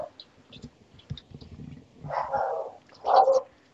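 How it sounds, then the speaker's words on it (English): A dog barks in the background of a home, a few short muffled barks and yelps in quick succession, fairly faint and distant, with some light clicking noises. "our dog's barking in the background."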